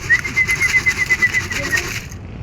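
A returning domestic pigeon, a released bird that has come back to its loft, with a steady chirping call repeating close by over a rustling, noisy background that cuts off near the end.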